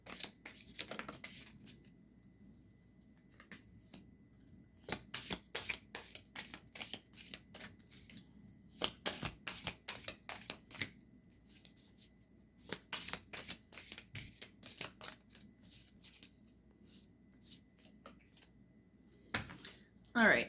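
Tarot cards riffled and shuffled by hand before a reading, coming in several quick bursts of crisp fluttering slaps with short pauses between, close and fairly quiet, ending in a louder snap.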